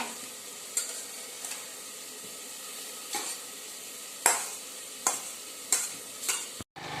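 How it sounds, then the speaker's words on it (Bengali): Okra frying in a pan over a continuous soft sizzle, with several sharp scraping stirs of a spatula spaced irregularly, close and fairly quiet, no voices. "এই যেখানে ভেন্ডি ভাজা হচ্ছে"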